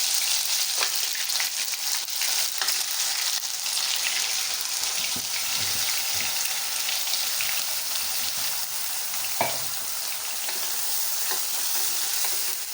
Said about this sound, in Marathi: कढई ठेवली आहे तेल गरम झालं आहे त्यात आपल्याला मसाला घालायचा आहे